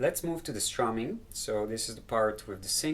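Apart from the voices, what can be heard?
No everyday noises stand out.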